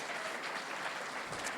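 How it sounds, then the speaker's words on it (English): An audience at a morning event with a state senator breaks into steady, dense applause, a continuous wash of clapping filling the hall with no speech over it. "Can we please give them a round of applause?"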